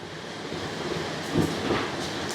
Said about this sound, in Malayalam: അത്രയ്ക്ക് മഴയുണ്ട് പുറത്ത്.